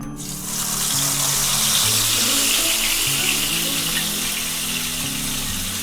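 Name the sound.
marinated chicken frying in hot oil in a pan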